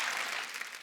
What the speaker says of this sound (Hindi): वो सोनाक्षी के लिए जोरदार तालियां।